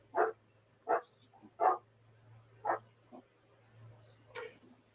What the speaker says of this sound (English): I agree with the dog barking.